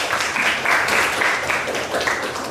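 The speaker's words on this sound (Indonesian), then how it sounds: "beri tepuk tangan untuk kelompok 1" A group of university teacher-training students claps continuously in steady applause for a few seconds in a classroom, filling the room at even loudness.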